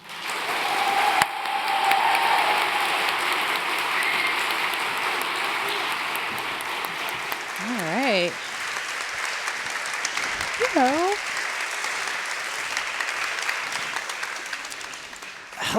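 An audience applauds to welcome two speakers on stage, a sustained wash of clapping that gradually thins, with cheers and whoops rising briefly partway through.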